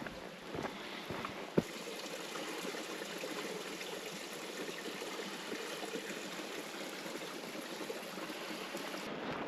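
Creek water flowing through China Gulch on the Rogue River Trail, a steady soft babble and trickle heard close by, with one brief knock early on and no voices.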